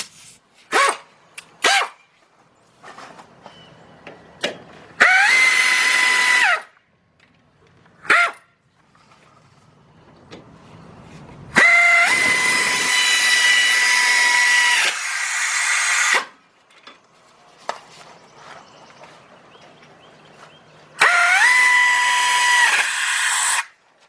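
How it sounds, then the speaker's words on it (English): Air ratchet fastening front brake rotor parts on a 2003 Lincoln Navigator, heard as three loud, sustained whirring bursts of a second or more, separated by quieter clicks and shop noises, with no talking. "or in this case the air ratchet."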